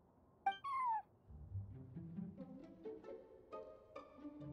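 Sir Pouncelot, a feisty cat in a video game, lets out one clear rising-and-falling meow near the start, followed by soft in-game background music with no speech.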